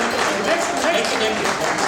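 An audience at an S3S Wellness achievers' motivational event near Jim Corbett breaks into loud, dense applause, a continuous wash of clapping held at an even level, with voices speaking over it.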